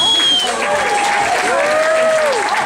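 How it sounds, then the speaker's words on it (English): A crowd claps steadily for a few seconds, with some cheering and whistling mixed in, loud and continuous throughout. "give a big round of applause to our youngest player here."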